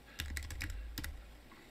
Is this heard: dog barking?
no